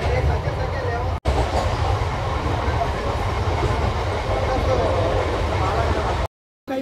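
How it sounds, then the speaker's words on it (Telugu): Onboard rumble of a MEMU express train running after leaving Powerpet station, a steady loud broadband roar with rattling, cutting out briefly twice. "పవర్పేట స్టేషన్ నుంచి కూడా మన ట్రైన్ బయలుదేరిపోయింది"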